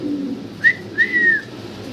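A pair of white Pomeranian pouter pigeons gives two short cooing calls, a brief one followed by a longer drawn-out one, close by over a low background hum.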